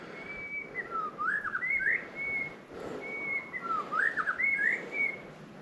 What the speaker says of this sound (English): one of the birds back here is making this really cool noise